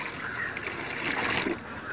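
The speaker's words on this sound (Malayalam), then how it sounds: "കുറച്ച് വെള്ളം ചേർത്തിട്ട്" Water trickles and splashes softly as it is poured into a homemade fish amino fertilizer mixture, a faint, short dribble with a slightly louder splash toward the end.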